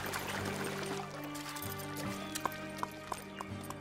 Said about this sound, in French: Rosa Rodriguez sort des limites du parcours avec son cheval.